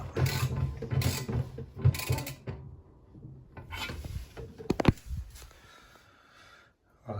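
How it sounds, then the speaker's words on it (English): A hand ratchet tightens a tap connector during plumbing work, giving bursts of rapid close clicking and mechanical ratcheting with pauses between strokes and some rubbing and knocks. "then just use the ratchet"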